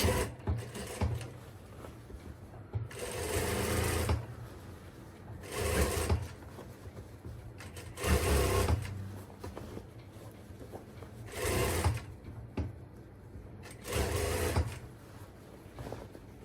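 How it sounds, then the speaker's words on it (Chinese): Sewing machine stitching along a drawn line on a drawstring bag, running in several bursts of steady whirring that stop and restart between pauses, close and fairly quiet. "然后就开始车了， 沿着刚刚画的这个线，好来车它"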